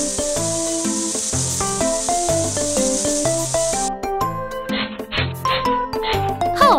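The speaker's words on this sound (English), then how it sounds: "Then, please rinse the foam away with the water." Water rinses foam off a puppy in a video game, a bright hissing spray running steadily over cheerful game music, then giving way to tinkling chimes.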